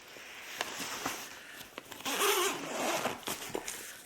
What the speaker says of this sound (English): Nice big zipper, as you can see.